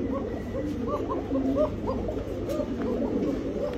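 Pigeons coo repeatedly, close by, a series of soft rolling coos over a steady low background hum.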